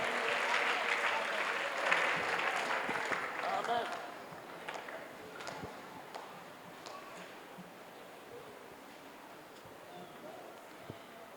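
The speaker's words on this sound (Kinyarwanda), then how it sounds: "Tugukomeye amashyi Mwami wacu." A church congregation at a gospel concert breaks into warm, sustained applause that gradually thins out, with rustling and scattered claps trailing off as it fades.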